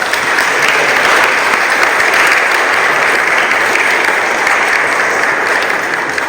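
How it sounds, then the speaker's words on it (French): A church congregation at a Sunday Protestant service applauding, with dense, steady clapping filling the whole stretch at full volume and no talk. "alors on peut l'applaudir et la remercier chaleureusement."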